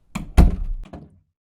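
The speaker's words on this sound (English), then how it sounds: "Close that door after you." A door closes with a heavy thunk in a live old-time radio drama performance, one solid slam followed by a softer rattle as it settles, loud and close.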